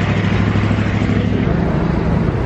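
A group of motorcycles rides together in the Philippines, among them a Suzuki GSX-S, a Yamaha Sniper, a Suzuki Raider, a Honda XRM and a Yamaha R3, and their engines drone loudly and steadily from close by with no talk.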